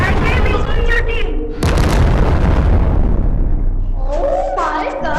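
Loud, dense blasts from rockets exploding in the video game Animal Company, one heavy boom cutting in midway and sustained rumbling throughout, with excited voices talking over the explosions.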